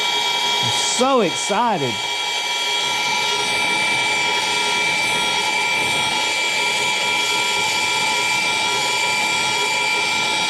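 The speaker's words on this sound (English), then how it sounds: "I'm excited about this torch, that's for sure. It is loud, but it's all right." A loud soldering torch roars steadily and close for the whole stretch, a constant rushing blast; a person speaks briefly near the start over it.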